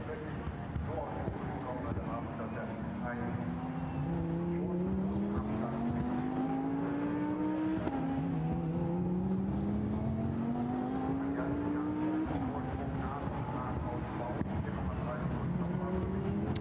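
Lamborghini Super Trofeo race cars sweep past on the Nürburgring circuit, engines rising and falling in pitch over and over as they go through. The running engine noise is fairly faint and distant, with a commentator talking over it.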